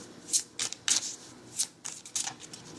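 Tarot cards are shuffled by hand in several quick, crisp riffling bursts spaced irregularly, close and fairly clear, with no talking.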